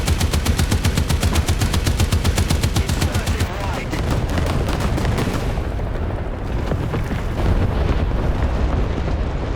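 Tank cannon fire in War Thunder, a rapid series of loud, sharp gun blasts in quick succession followed by heavy rumbling booms and continuous battle noise, with no talking.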